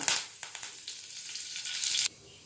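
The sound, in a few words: curry leaves added to fried chana dal sizzling in oil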